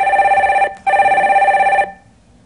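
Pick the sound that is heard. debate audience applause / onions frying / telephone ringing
telephone ringing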